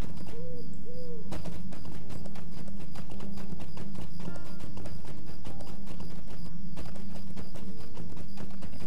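Horse hooves galloping in the video game LOTRO, a loud, fast and steady clip-clop of hoofbeats running throughout alongside a game soundtrack and ambient bird-like calls.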